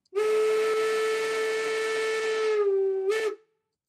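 A loud, chord-like five-tone whistle from a BR 10 steam locomotive sounds in one sustained blast, followed by a quick final toot before silence.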